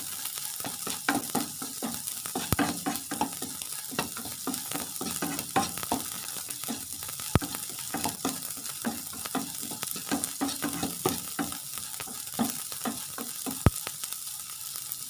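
Palm fruit rice pudding (payasam) cooking in a pan, with steady stirring scrapes and soft bubbling sizzle running throughout, close and moderately loud, no talking.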